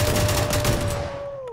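Rapid gunfire rattles out in a shotgun-heavy shooter video game, a short loud burst of quick shots over a sustained tone that fades away within about a second and a half.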